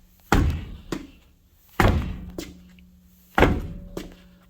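Three heavy thuds from a boot kicking a tire stuck to its hub after the lug nuts are off, evenly spaced about a second and a half apart, each followed by a lighter knock, close and loud with no talk.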